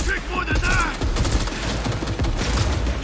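Weapon fire in the video game Cyberpunk 2077 crackles in dense rapid bursts of shots, loud and continuous, with game sounds and some speech mixed in.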